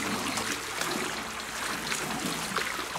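A character wading out of water in Animal Crossing: New Horizons, with steady splashing and sloshing close by, continuous and moderately loud with no voices.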